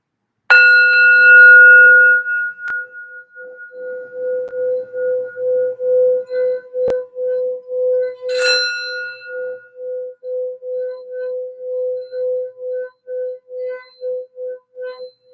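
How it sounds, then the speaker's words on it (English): A sound bell is struck once, then a second time a few seconds later, each strike ringing out in a long sustained tone that pulses and slowly fades, clear and alone. "let's do sound bell here, Leo."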